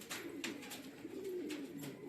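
Old-time flying pigeons coo in a continuous low, rolling warble, near and fairly clear, with a few soft clicks over it.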